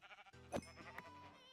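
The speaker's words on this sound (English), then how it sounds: "Oh, there's a sheep." A single Minecraft sheep bleats once, a short wavering cry heard close and alone against quiet game ambience.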